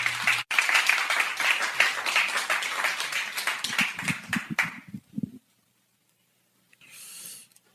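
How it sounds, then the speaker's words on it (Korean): A church congregation claps to welcome the pastor, dense steady applause that thins into scattered claps and fades to silence, followed by a brief soft rustle. "박수로 환영하시겠습니다"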